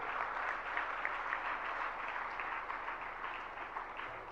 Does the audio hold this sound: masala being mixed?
no